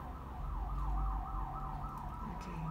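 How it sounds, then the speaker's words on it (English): Police car or ambulance siren passing during an outdoor painting session, a steady wailing tone rising and falling repeatedly over low traffic rumble, with no talking. "Wow, I can hear that police car."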